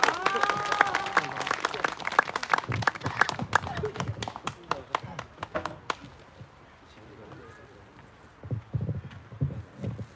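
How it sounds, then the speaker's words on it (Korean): Audience applause welcoming a speaker to the podium at a memorial ceremony: a loud burst of clapping that thins out midway, then gives way to scattered claps and murmuring. "박수로 맞아주십시오."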